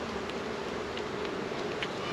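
A steady, dense drone of honey bees swarms around a hive box, an even buzzing texture with faint individual passes flicking through, no voices.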